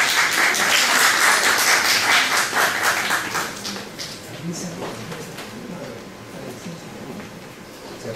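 An audience applauds at a physics conference session, a dense burst of clapping that fills the opening seconds and then thins into scattered claps under a murmur of voices.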